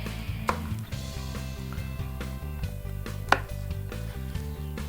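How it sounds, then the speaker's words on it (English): A knife chops chili peppers on a board, a few sharp distinct knocks spaced irregularly under steady background music. "Let's chop them."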